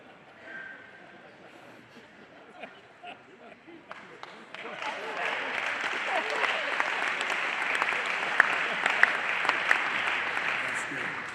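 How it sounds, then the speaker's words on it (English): An audience at a speech for a parents' education charity breaks into applause after a joke, starting as scattered clapping and swelling to steady, full applause from a large crowd. "Applause for the jokes, that's great."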